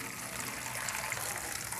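Water poured over whole coriander seeds to soak them makes a steady, even rush of splashing liquid, close and moderately quiet, with no voices.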